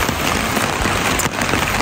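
Typhoon rain driven by wind against the walls and windows of a building in Japan, a dense, steady hiss of heavy rainfall with no talk.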